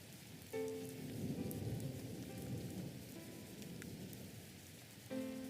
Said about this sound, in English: We aren't going anywhere till the rain stops